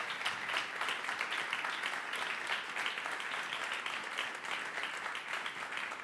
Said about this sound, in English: So applause to all of them.